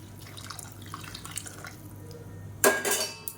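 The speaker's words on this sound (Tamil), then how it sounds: "சூடான தண்ணியை இப்போ இதில் சேர்த்துக்கலாம்" Hot water is poured onto jeeraga samba rice in a cooking pot, a short splashing gush near the end after a few quiet clinks and drips.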